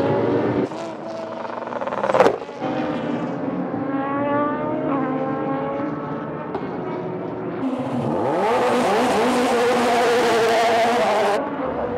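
GT300 race cars, including a Subaru BRZ, starting the final Super GT race at Twin Ring Motegi, a loud pack of engines revving and shifting up with overlapping rising whines, swelling into a dense roar.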